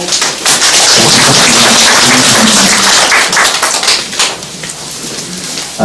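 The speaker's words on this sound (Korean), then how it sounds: "박수 좀 날려주세요." Loud, dense applause from a neighborhood hall audience at a mayor's town briefing, welcoming a provincial council education committee chair, a thick continuous wash of clapping at close range.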